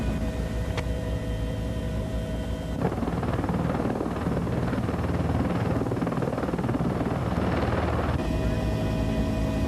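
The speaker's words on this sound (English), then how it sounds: "Slowly, the base of Our Lady of the Rockies was lowered to its new home." A helicopter hovers close and loud while lowering the base of a large statue onto a mountaintop near Butte, Montana, its rotor and engine roar continuous throughout with a brief shift in tone midway.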